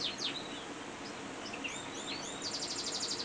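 Aviary birds chirping: quick, high chirps and tweets from several birds over a steady background hiss, ending in a rapid run of repeated notes.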